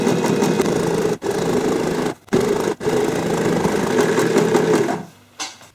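A sewing machine runs an edge stitch along a curtain-fabric tote bag in long, steady whirring bursts, close and clear, broken by a few brief pauses and a final stop.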